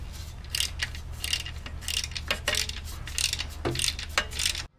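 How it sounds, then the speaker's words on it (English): A quarter-drive ratchet removes 10 millimeter bolts on a Range Rover in rapid clicking bursts, several runs of close, crisp pawl ticks separated by brief pauses. "you can just sneak in there with a quarter drive ratchet"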